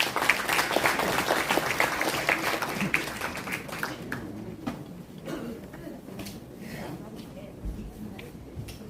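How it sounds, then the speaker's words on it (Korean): Applause from an audience welcoming a guest lecturer, a presidential office citizen communication secretary, at a Korean integrity award special lecture; dense steady clapping fills the first half then thins and fades, with some voices underneath. "그럼 김대남 강사님을 큰 박수로 환영해"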